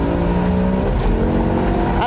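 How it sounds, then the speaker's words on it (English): A BMW M6 Convertible accelerates hard with a quick gear change, its engine note loud and close as it revs, briefly dips at the shift and pulls again. "Now we select the most sensitive change speed setting and hit the gas."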